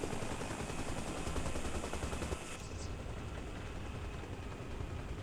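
A UH-1H Huey rocket gunship in Arma Reforger lets off a loud, dense burst of rapid gunfire for about two and a half seconds, then the sound drops to a steady rotor-and-engine drone that carries on to the end.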